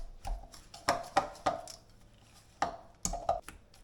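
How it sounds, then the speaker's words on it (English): Sugar and flour for a peach pie topping are stirred together in a bowl, with a utensil making irregular close taps and scrapes against the bowl, short bursts separated by brief pauses. "I'm just going to mix those few ingredients together"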